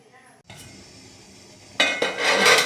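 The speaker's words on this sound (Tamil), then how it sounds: "இது நான் வைக்கிறேன் இதில் பத்து நிமிஷம் வேகட்டும் மூடி வைக்கிறேன்" Idiyappam set into a steamer pot and the lid put on, a quiet scrape and muffled clatter followed by a louder burst of metal clinks and knocks as the pot lid settles close by.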